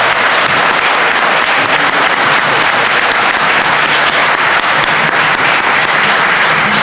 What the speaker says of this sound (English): Everybody give a round of applause for Cacique Jorge Baracutay Esteves.